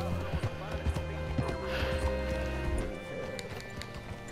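Steady clip-clop of horse hooves on hard ground in Red Dead Redemption 2, with a horse's whinny and background game ambience mixed in.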